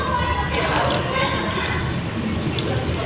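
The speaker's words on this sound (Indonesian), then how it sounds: "Hidupkan keran menggunakan siku." Tap water runs into a sink during handwashing, a steady, loud splashing hiss that continues evenly throughout without pause.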